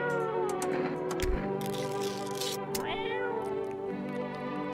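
A video game cat meows several times with small clicks and effects scattered around it, and little else is audible.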